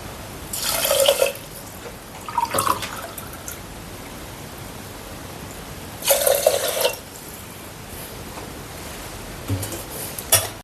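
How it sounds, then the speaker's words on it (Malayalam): Water poured into a pot of half-hour-soaked rice for cooking, two glasses of water to two of rice, comes in three short splashing bursts separated by quiet gaps, fairly close and with no talk over it. "2 ഗ്ലാസ് അരിക്ക് 2 ഗ്ലാസ് വെള്ളം ഒഴിക്കാം."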